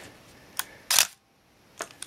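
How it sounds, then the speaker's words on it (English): A Minolta X-700 film SLR fires its shutter at different speeds, giving sharp mechanical clicks, one longer louder snap near the middle and lighter clicks around it, close and clear with no talking. "let's start going down through the shutter speeds and we'll watch it"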